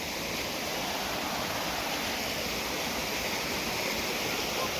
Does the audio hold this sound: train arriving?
no